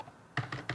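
A computer keyboard clicks three times in quick succession while a website is being coded in HTML and CSS, with crisp, close keystrokes after a short quiet pause.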